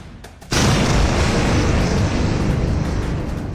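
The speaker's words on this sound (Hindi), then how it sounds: "नूर खान बेस पर धमाका" A sudden loud blast at Nur Khan airbase, followed by a sustained heavy roar and rumble that stays loud and fades only slightly, with no talk.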